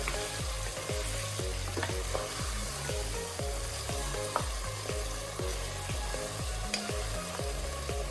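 Mutton fries with masala in a pot for nati-style green mutton biryani, a steady sizzle under a regular rhythm of stirring knocks and scrapes, close and fairly quiet, with no voices.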